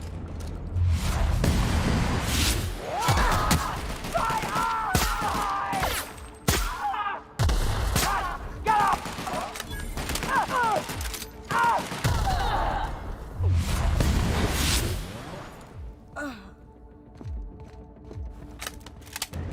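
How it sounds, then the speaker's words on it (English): A rocket launcher fires repeatedly in a firefight in The Outer Worlds, with sharp, loud blasts in irregular bursts. Brief pauses break up the shots, and other combat noise fills the gaps. "Charles with his rocket launcher."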